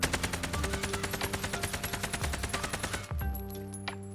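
Sustained fully automatic AK-47 rifle fire from Call of Duty Cold War Warzone, a rapid evenly spaced burst of about 30 rounds that stops abruptly, then faint clicks follow.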